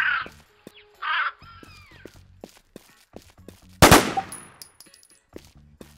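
Sparse clicks and small game sounds from Infestation: The New Z, then one loud sharp gunshot burst at mid-clip, its ring fading over the next second.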